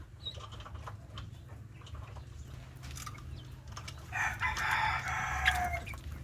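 Young Texas Panabong gamefowl chicks kept in a pen chirp and peep in a short high-pitched cluster near the end, over a low steady background hum.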